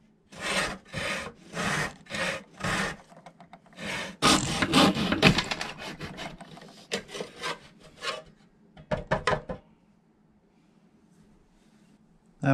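A hand saw cuts a polymer Sig P365 XMacro grip module held in a miter box. The close, rasping back-and-forth strokes come in bursts, speed into a steady run, then slow to short final strokes before stopping.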